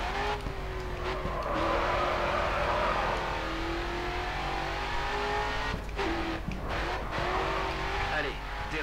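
Race car in the video game Grid 2 drifting through a corner, engine revving loudly with tire squeal and skidding over a steady roar, while a voice talks over the gameplay.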